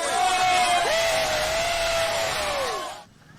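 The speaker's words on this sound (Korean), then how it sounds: "타이어를 분리하자 환호성이 터져 나옵니다" Loud cheering and whooping from a crowd of onlookers erupts after a motorbike tire is sawn off a wild crocodile's neck in Indonesia, sustained yells with a rising shout, then cutting off sharply to near silence.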